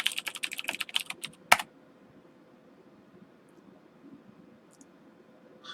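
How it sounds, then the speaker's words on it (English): A computer keyboard being typed on at a desktop: a quick burst of close, crisp key clicks ending in one louder thump, followed by near silence with faint room hum and a couple of tiny ticks. "scroll down and type here"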